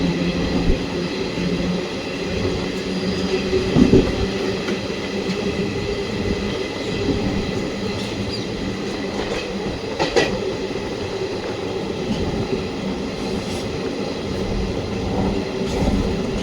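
Kerala Jan Shatabdi Express with old ICF coaches running along the track, a continuous rumbling roar with rhythmic wheel clatter and occasional louder knocks, heard from on board.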